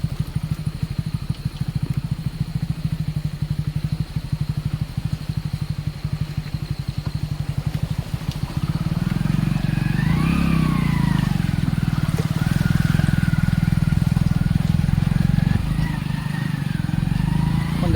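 Motorcycle riding along a rough stream-side path near a roadless hill village, engine chugging with rapid low pulses, then rising to a louder, denser rumble with brief revs over the bumpy track.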